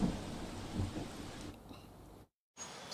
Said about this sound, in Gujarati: સુરતમાં જે રીતે ધોધમાર વરસાદ વરસી રહ્યો છે